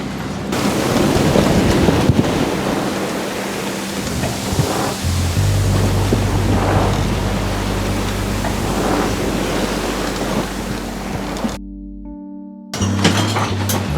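Rough, lumpy sea around a sailboat at sea, a loud continuous wash of waves and wind-driven water roaring steadily, with a brief lull near the end before the surge returns.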